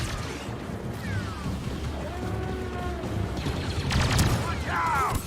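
Blaster gunfire in Star Wars Battlefront II, a busy battle of rapid shots, crashes and whining laser tones under shouted voices, building louder toward the end.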